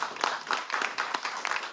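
Audience at an office Chopped-style cooking show clapping and cheering, a lively burst of applause with uneven claps and voices rising and falling.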